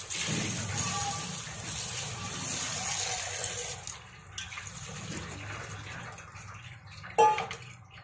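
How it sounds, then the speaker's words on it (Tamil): Vegetables rinsed under a running kitchen tap: a continuous hiss of flowing water with splashing and rustling as produce is handled, easing midway and ending with a short clink. "அது போகணும் அப்படின்னா இந்த ரன்னிங் வாட்டரில் ஒரு 2 நிமிஷம் நல்லா கழுவிக்கோங்க."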